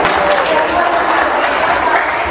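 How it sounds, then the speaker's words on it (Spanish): Audience applause at a church Bible study gathering, a dense steady wash of clapping lasting a couple of seconds, fairly loud and close. "Un aplauso para Genoveva."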